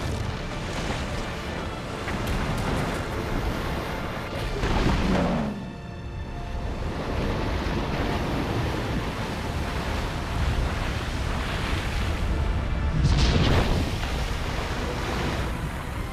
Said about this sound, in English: that is a ton of water flowing